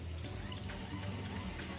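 Water running from a leaky faucet fed by a tube, a steady close trickle and spatter with no voices.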